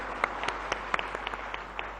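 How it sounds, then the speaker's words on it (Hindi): Audience clapping for the chief minister at a public event, a steady moderate patter of many hands with distinct sharper claps, somewhat distant and without speech over it. "एक बार सभी लोग जोरदार तालियां बजाइए उनके लिए।"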